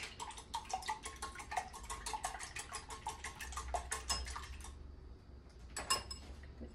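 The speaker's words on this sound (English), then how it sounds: "I'm gonna give that a good whisk." Eggs are whisked in a bowl, a quick run of rhythmic light clinking that stops for a moment, then ends with a couple of louder taps.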